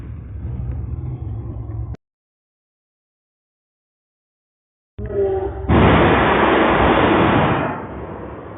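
A Lamborghini engine rumbles and revs with no one at the wheel, cutting out to silence for a few seconds, then loudly roaring back up with a sustained high rev before easing off.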